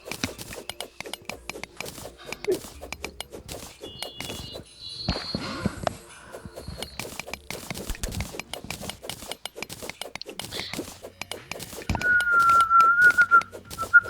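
A person whistles a brief, wavering tune near the end, after a stretch of clattering footsteps and rustling, amid Terraria gameplay.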